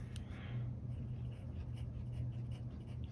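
An Esterbrook Estie Honeycomb fountain pen with a needlepoint nib scratches across paper in faint, close strokes, a soft papery rasp with brief pauses between marks.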